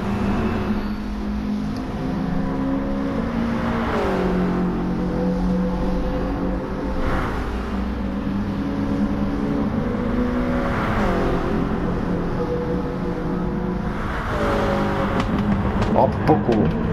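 A Toyota Gr.4 race car at Monza in Gran Turismo Sport: a loud, sustained engine drone with repeated rising revs and gear shifts, a popping backfire near the end, under continuous excited race commentary.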